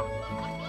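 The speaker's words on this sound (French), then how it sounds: "et même les poules là, en sortant, elles vont faire du bruit" Chickens in the video game Slime Rancher give a short, honking cackle over a steady musical backdrop, brief and fairly quiet.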